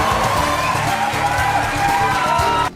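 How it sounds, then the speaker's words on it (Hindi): A studio audience cheers for Shah Rukh Khan in a loud, continuous roar with shouts, whistles and clapping blended together under a music bed. "लोग खड़े हुए, सीटियां बजाई, तालियां बजाई और शाहरुख खान का अभिवादन किया।"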